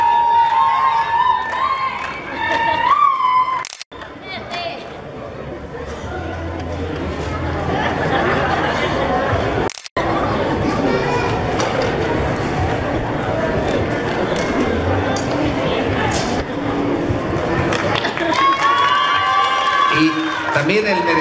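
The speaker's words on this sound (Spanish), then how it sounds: "Pues ahí está su porra animándola." Supporters of a queen candidate cheer and shout at the Spring Fair coronation in Sierra Hermosa, a loud crowd roar with whistles and chatter. A voice speaks over the PA at the start and end, and there are two brief dropouts.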